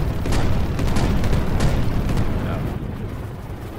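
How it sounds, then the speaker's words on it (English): Heavy vehicle cannon fire in the VRChat game Test Pilots, loud booming rumbles with sharp repeated blasts early on, dense and close, with a voice speaking briefly over it. "Sorry, just testing out the cannon."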